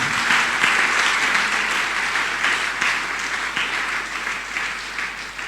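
Sustained round of applause from an audience at a closing ceremony, steady and dense clapping throughout with a faint voice underneath.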